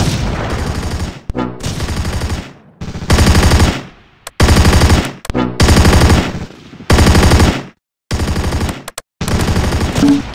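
Machine gun fire in the Close Combat wargame, long loud bursts of rapid automatic shots broken by short silent gaps, close and harsh, repeating across the whole stretch with no talk.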